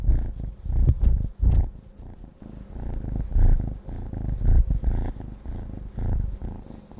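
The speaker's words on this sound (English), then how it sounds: "I'm going to show you her purring." Close, loud rhythmic purring of a kitten, rising and falling with each breath in a steady rumble.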